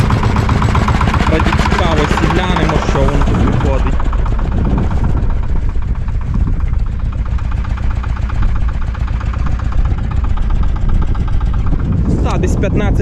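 A small Shifeng 240 mini tractor engine drones steadily and loudly while plowing, with a gritty mechanical rumble and some rattling, close by, and a voice talking over it.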